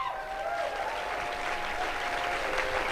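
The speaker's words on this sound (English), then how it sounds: "I appreciate the applause" Warm applause from an audience greets Representative Rabb as he is introduced at a Philadelphia radio event, thick continuous clapping, loud and even for the whole stretch.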